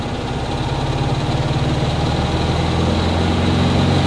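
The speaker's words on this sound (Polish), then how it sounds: "Silnik jest taki charakterystyczny, bulgot." A Volkswagen bus engine idles nearby with a low, burbling, uneven rhythm, running steadily throughout without any talking.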